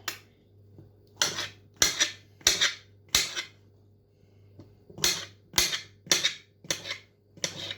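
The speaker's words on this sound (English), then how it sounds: "Can you hear my chopping bowl? It makes a very loud noise when I chop it" A knife chopping mushrooms strikes a chopping bowl in sharp, loud clinking chops, several in a quick uneven rhythm with short pauses, close and without talk.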